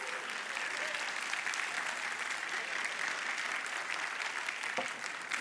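A room full of people applauding for the drummer Bob after a church performance, steady dense clapping sustained throughout at moderate distance with no talk over it.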